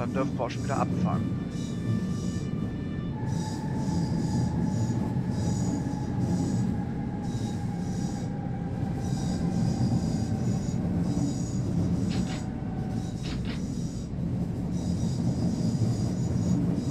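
S-Bahn Hamburg commuter train in Train Simulator 2016 pulling away, with a steady low rumble, rising motor whine and squealing wheel tones over continuous rail noise.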